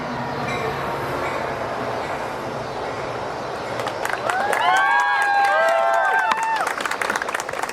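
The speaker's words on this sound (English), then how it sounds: "we will wait for the train to go by" A train rolls past outdoors at a press conference, a steady rumble of rail cars that swells midway as screeching, squealing wheels ring out loudly, with no talk over it.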